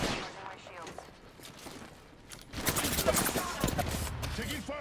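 Gunfire erupts in a team-based video game match: scattered shots at first, then dense bursts of automatic fire that grow louder and more continuous.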